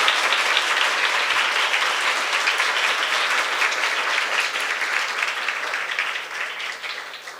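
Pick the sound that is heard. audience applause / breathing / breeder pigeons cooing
audience applause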